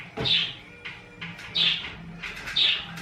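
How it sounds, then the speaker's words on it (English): Three loud, close bird calls ring out at roughly one-second intervals, each a bright chirp with a buzzy edge, with quieter calls between them and no talking. "You can hear the birds in the background."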